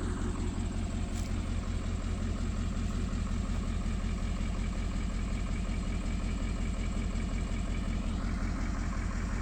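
A diesel vehicle engine idles steadily nearby, a continuous low rumble with even mechanical clatter and vibration, no voices over it.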